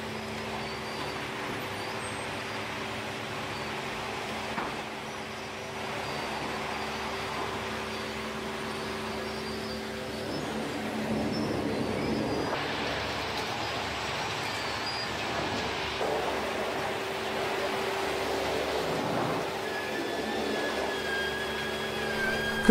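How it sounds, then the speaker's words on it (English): A long conveyor carrying wood chips between processing stages at a forestry site gives a continuous mechanical rumble and whine, steady and fairly loud, with a slight swell partway through and no talking. "we see a long conveyor carrying chips from one stage of processing to the next"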